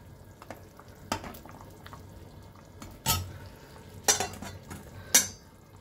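Pieces of previously fried fish dropped into a simmering fish curry, a low bubbling bed broken by four distinct sizzling splashes and pan clinks spaced about a second apart.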